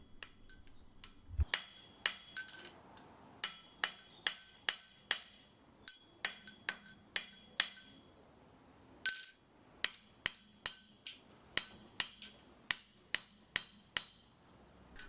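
Metal hammer blows land on a heavy steel swage block on its stand, sharp clanks in irregular bursts with brief pauses, fairly close, with short dull decay rather than a long ring.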